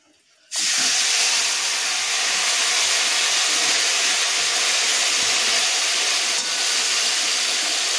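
Marinated bhola fish dropped into hot oil seasoned with black cumin, bursting into a loud, steady, close sizzle that begins abruptly and holds unbroken to the end.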